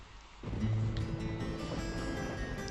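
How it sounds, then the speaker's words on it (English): Rain falls in the video game Deadly Premonition near the Greenvale Sheriff Department, a steady low rushing wash that swells in after a quiet start and holds on evenly. "It's raining though. That's bad."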